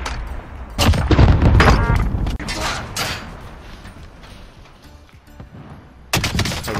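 Rocket launched and exploding in Call of Duty Warzone: a loud, dense blast and roaring rumble up front, fading into a lower churning tail, then another sharp burst of gunfire-like noise near the end.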